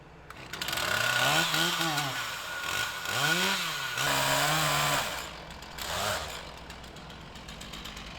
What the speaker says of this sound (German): Im Weg stehende Bäume werden gefällt und beiseite geräumt.